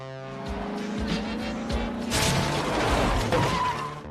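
A stolen car in an action film scene speeds off with engine roar and squealing tires, loud and continuous, mixed with dramatic soundtrack music and a rising rush of noise midway.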